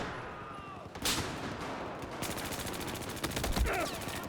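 Gunfire in the video game Battlefield 4, a loud sharp crack followed by a dense stretch of rapid automatic shots and echoing battle noise, with no talk over it.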